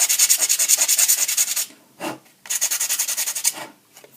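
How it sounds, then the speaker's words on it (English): Rapid rhythmic scraping of sandpaper rubbing back and forth in quick strokes, two bursts separated by a brief pause, close and clear. "Now we're going to go ahead and sand the edges of this."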